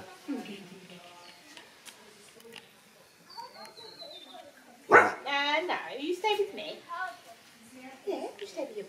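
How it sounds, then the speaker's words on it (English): A puppy in a wintry home setting gives a few short yips and whimpering barks, close and fairly quiet, mixed in with a person talking to it affectionately. "What have we here? Eh? A windowsill puppy dog."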